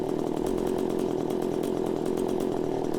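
Chainsaw engine held at a steady high rev, a continuous loud buzzing drone close up with no talking; the drop back to idle is not heard.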